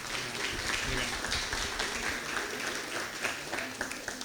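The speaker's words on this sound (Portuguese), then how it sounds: "Por favor, uma salva de palmas." Applause from an audience at a Brazilian ADHONEP testimony event greets a doctor, steady moderate clapping mixed with some talking, fairly soft and continuous throughout.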